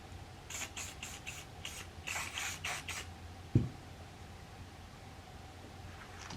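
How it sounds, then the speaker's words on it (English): A burst of short aerosol spray hisses in quick succession as CLP lubricant is sprayed into an M1 Garand rifle barrel, followed by a single sharp clack and then quiet room tone. "Spray some CLP at the end."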